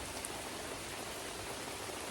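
Steady, even rain falls during a trek, a dense continuous hiss close by that never lets up, with no voices.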